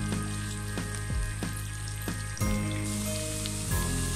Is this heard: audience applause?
no